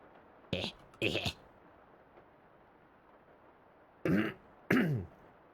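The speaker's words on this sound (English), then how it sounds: "God, I can't clear my throat." A person clears their throat in four short, rasping bursts, two early and two near the end, separated by quiet room tone.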